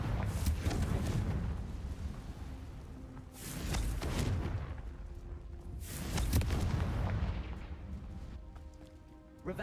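Fiery Confringo spell blasts go off in the Hogwarts Legacy game, about three heavy booming explosions spaced a few seconds apart, each with a long rumbling decay, loud and close with no talking over them.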